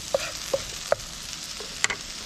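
Home fries sizzle steadily in a hot pan on the stove, with a few sharp scraping stirs and spatula clacks spaced through the clip, close and moderately loud.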